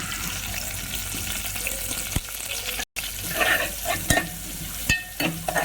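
Curry leaves, cumin and ginger garlic paste frying in hot oil for tomato saar, a continuous close sizzle with stirring scrapes and a few sharp utensil clicks.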